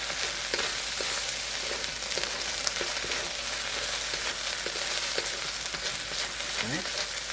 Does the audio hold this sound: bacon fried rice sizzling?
yes